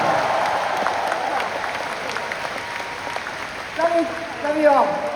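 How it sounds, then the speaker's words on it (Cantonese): Concert crowd at a Hong Kong band's 40th anniversary show clapping in a steady, dense wash of applause, with a voice speaking over it near the end. "多啲掌聲"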